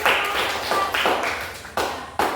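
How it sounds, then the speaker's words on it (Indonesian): A group at a school class presentation claps in several short bursts of applause, each starting sharply and fading, close and moderately loud. "Oke, tepuk tangan dulu."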